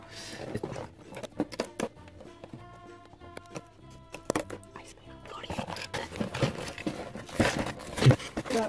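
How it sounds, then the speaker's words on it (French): Packaging on a LEGO set box being crinkled and torn open, busy rustling and tearing close up, with a few taps along the way. "on va ouvrir cette magnifique boîte dans laquelle il y a deux personnages"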